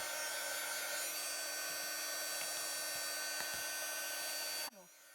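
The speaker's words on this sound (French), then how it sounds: "avec notre pistolet chauffant." A heat gun blows with a steady, airy roar while melting embossing powder on a stamped paper craft, then cuts off abruptly near the end, with faint handling ticks underneath.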